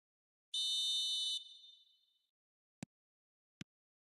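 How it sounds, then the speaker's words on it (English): A referee's whistle in an eFootball match signals the start of the second half for Paris Saint-Germain. One long, shrill blast tapers off, then two soft clicks follow in near silence. "Whistle goes, and we start the second half"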